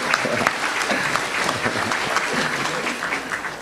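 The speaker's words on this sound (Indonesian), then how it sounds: "Tepuk tangan dulu untuk para mahasiswa." Audience applause for university students at a morning forum on hospitality in Bali, a steady, dense wash of many hands clapping at close range throughout, with a voice faintly audible beneath it.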